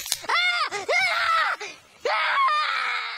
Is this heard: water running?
no